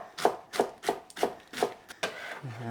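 A knife slices through lettuce for gyro wraps on a cutting board, six crisp evenly spaced cuts in a steady rhythm, close and fairly quiet, followed by a soft low hum at the end.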